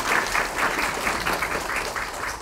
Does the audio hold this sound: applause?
yes